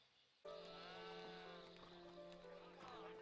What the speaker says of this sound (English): These sheep are getting a lot of screen time.